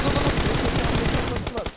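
Rapid automatic gunfire from a competitive online shooter match, a dense, loud burst of shots fired close by that runs without a break for under two seconds, with a few separate cracks at the very end.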